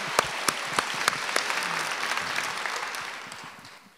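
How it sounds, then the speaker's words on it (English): Pageant audience applauding for Miss LSU USA 2017, scattered sharp claps that thicken into steady applause from a hall crowd, moderately distant and fading toward the end. "But how about another round of applause for your Miss LSU USA 2017, Alyssa Caesar."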